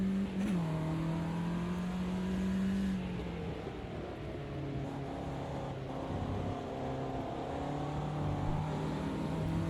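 A Ginetta G40 race car at Brands Hatch in the Automobilista 2 racing game revs hard in first gear, its engine note droning steadily and shifting pitch as it climbs, loud and continuous without talk.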